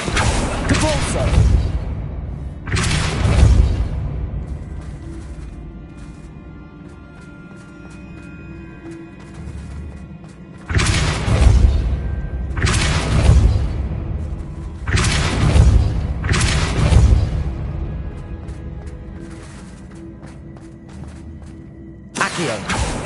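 Depulso spell impacts from Hogwarts Legacy land as heavy booming thuds, five or six loud, close blows spaced a few seconds apart, each with a short rumbling tail, a voice speaking now and then.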